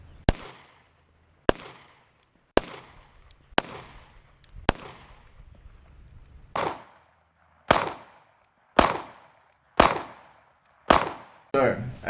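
Gunshots from a firearm fitted with a Brinyte PT18Pro weapon light and ring attachment, about ten sharp loud reports spaced roughly a second apart, each followed by a short echoing decay.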